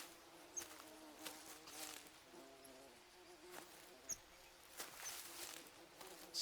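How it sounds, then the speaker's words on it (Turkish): Flies buzz in the jungle survival video game Green Hell, with several close insect buzzes swelling and fading over a quiet background and occasional soft footsteps. "Sinek sesleri geliyor arkadaşlar."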